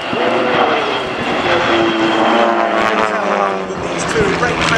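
Propeller engines of two warbirds flying a close-formation barrel roll at the Biggin Hill airshow, a steady loud droning roar with shifting pitch throughout, under a commentator's voice over the public address.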